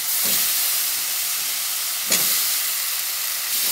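Boiled new potatoes dropped into hot spiced masala in a pan for alur dom, giving a loud, steady hiss and sizzle close by, with a couple of brief stirring bumps and no talking.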